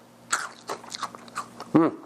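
Crisp bites and crunches into small puffed Timbits cereal nuggets, a few sharp irregular crunches close to the mouth with brief chewing between.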